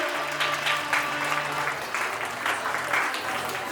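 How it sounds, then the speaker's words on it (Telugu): Applause from a crowd at a Sri Krishna Janmashtami celebration in Nellore, following a dance performance by students, steady clapping over about four seconds with a voice talking over it. "సూపర్ సూపర్, గట్టిగా క్లాప్స్ అండి."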